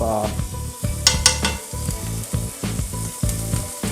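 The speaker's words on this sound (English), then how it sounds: "I'm gonna add all the onion into it. There she goes." Ginger and onion frying in a single pot at a campsite for chicken rice, a close crackling sizzle with rhythmic scraping stirs and a few light clinks of utensil on metal.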